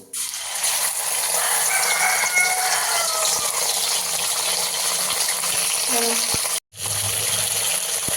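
Black cumin and ground cumin-coriander spices hit hot oil with a steady, loud hiss and crackle that sizzles continuously before briefly cutting out near the end.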